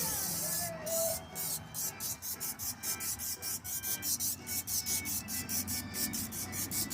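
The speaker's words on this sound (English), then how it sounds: "I'm gonna go ahead and spray up the bird with it" Quick repeated hissing sprays from an aerosol can of canola oil onto a turkey, close and fairly quiet, in a steady rhythm of short bursts.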